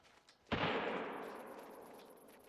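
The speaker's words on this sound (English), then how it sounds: "Was that a gunshot?" A single rifle gunshot in the hunting game theHunter: Call of the Wild, set in the Sundarpatan reserve, cracks sharply after a quiet moment and rolls off into a long, fading echo across the landscape, with no voices over it.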